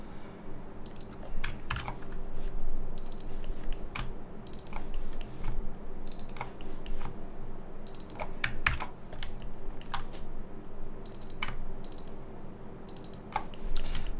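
Steady close typing on a computer keyboard with scattered mouse clicks during 3D low-poly game asset modelling, irregular bursts of keystrokes running throughout with no talking.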